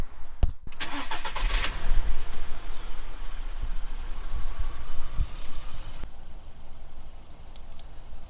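An Audi A2 1.6 FSI, recently treated for a cylinder misfire, cranks briefly and fires up, then settles into a steady close-range idle that stays loud and even for several seconds.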